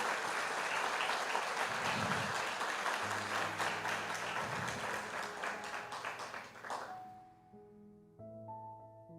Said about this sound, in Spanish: ¿Por qué no le damos un aplauso a Jesús que está aquí en medio nuestro?